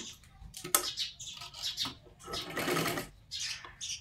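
A sewing machine runs in short bursts of stitching along the edge of a katori blouse, quiet and close, with pauses between runs.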